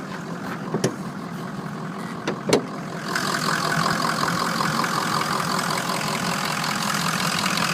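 A 2004 Ford F250 diesel truck idling with the hood open, a steady, even engine rumble and hiss that grows louder and fuller partway through, preceded by a few sharp clicks and knocks.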